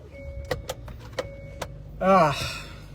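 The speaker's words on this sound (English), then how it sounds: "put the car on for the lights" A car is switched on at night for its lights. A few soft clicks and chimes come first, then a brief loud whirring mechanical burst as it powers up. All of it is close, with no talk over it.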